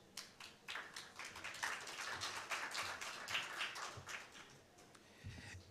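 Audience hand clapping at a climate conference session on livelihoods, jobs and skills builds into steady, moderately distant applause that runs for several seconds, with a low voice briefly underneath near the end.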